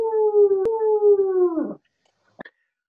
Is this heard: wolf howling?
yes